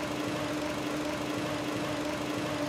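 A 2015 Kia Rio with a manual gearbox idles smoothly and steadily, a constant low engine hum with a faint tonal whine, close by and without speech.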